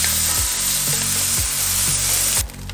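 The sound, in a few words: bacon rendering in a skillet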